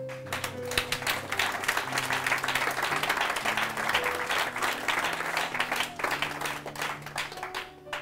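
Audience applause at a French-language talk, a sustained wash of many hands clapping at fairly close range for the full stretch, with faint tonal hum and possible murmuring underneath.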